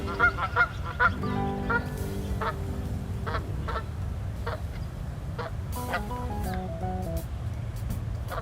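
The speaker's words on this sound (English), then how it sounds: "Look at how those geese glide through the water." Geese on the water honk repeatedly in a noisy, overlapping chorus, loud and close, with bursts of calls throughout.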